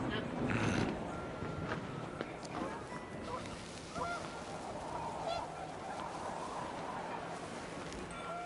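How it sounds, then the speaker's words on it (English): Panicked geese honking in the game What Remains of Edith Finch, with scattered honks over a gusting windy wash, loudest near the start and continuing more faintly. "The wind picked up and panicked geese appeared and quickly went."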